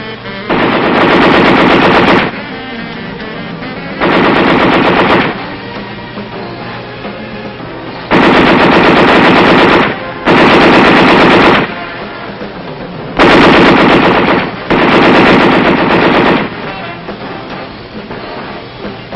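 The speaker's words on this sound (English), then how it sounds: "the 50 caliber machine gun" A .50 caliber machine gun fires on an infantry range in a series of long, very loud sustained bursts separated by short pauses, with no talk over it.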